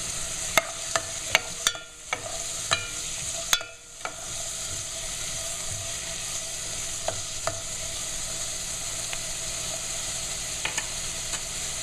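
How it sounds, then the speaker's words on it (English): Red onion or shallot sizzles in a pan alongside cooking carrots, with a steady frying hiss broken by occasional sharp clicks of stirring and a couple of brief dips. "I'm now going to add about 1 tablespoon of red onion or 2 tablespoons of shallot"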